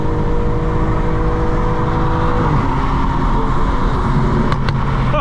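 A loud muscle car engine drones steadily throughout during night driving, with a low throaty rumble and a slight shift in pitch partway through, no voices.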